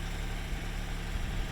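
Conventional farm tractor running steadily out on a field, spraying fertilizer into the ground; a continuous low engine drone with a rumbling, idling quality, moderately distant, with no voices.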